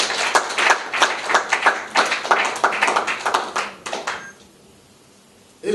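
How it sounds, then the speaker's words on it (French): A crowd at a political gathering supporting a presidential candidate claps loudly in a fast, rhythmic, near-unison beat for about four seconds, then stops abruptly into near silence. "le président Félix Antoine Tshisekedi, que je vous demande d'applaudir fortement."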